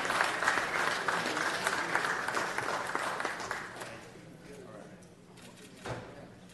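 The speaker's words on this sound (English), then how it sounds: "Let's give them one more round of applause." An audience at a city council meeting applauds in a dense burst of clapping that fades after a few seconds, leaving quieter room sound and a last stray clap; a person speaks over it.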